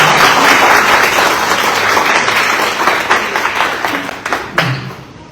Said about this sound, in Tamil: டாக்டர் திருமாவளவன் அவர்களுக்கான இன்னும் ஒரு நல்ல ஒரு கைத்தட்டு